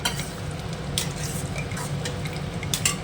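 Masala for fish curry sautéing in oil in a pan, with a steady close sizzle and occasional stirring scrapes from a spoon.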